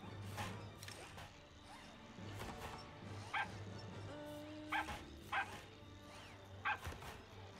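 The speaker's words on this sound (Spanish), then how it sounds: "El perrito, el perrete de la muerte." A dog in the video game Evil Genius 2 barks in short bursts several times at middling distance, over a steady low hum and scattered game effects, with no talking.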